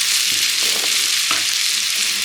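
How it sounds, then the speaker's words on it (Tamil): Lollipop chicken deep frying in hot oil gives a steady, dense sizzle throughout, with a few brief louder crackles rising above the constant hiss. "நல்லா ஆயிலே டீப்பாக ஃப்ரை ஆகும்."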